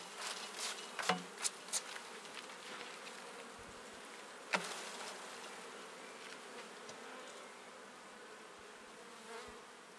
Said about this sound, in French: On brosse les abeilles pour dégager le cadre.